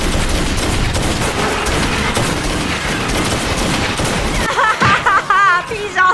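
Gunfire from a crocodile creature movie, several shots fired at the beast, heard as a dense, loud burst of shots and booms that gives way to shouting voices near the end.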